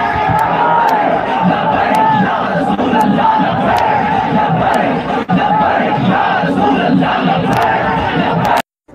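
A large crowd at a religious-political rally for Kashmiri Muslims roars slogans in unison, loud and dense, in repeated surging chants with bellowed calls that continue almost without a break before cutting off abruptly at the end.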